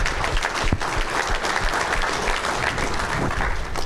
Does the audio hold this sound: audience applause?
yes